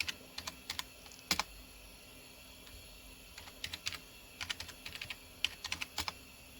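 Irregular clicks of typing on a computer keyboard while logging in to an Aruba S2500 network switch, keystrokes falling in short bursts with brief pauses, fairly close and moderately quiet.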